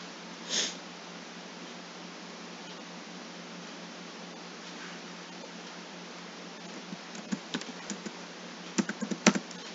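Typing on a computer keyboard while creating a custom catalog bid on the GeM portal, with a sniff early on and then soft key clicks that pick up into a quick burst of taps near the end.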